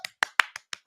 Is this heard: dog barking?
no